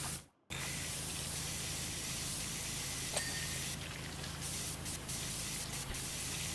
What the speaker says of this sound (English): A reef blower.